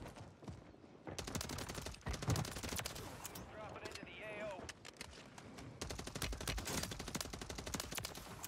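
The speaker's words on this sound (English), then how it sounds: "we're fucking shooting" Rapid gunfire from the Call of Duty Warzone video game, dense repeated shots running through most of the stretch at moderate level, mixed with game effects and a voice talking.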